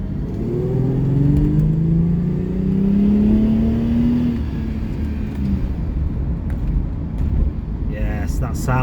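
A Jaguar XJS V12 with straight pipes revs in first gear, its deep exhaust note climbing steadily and then easing off over about four seconds, loud and close, with wind buffeting the microphone.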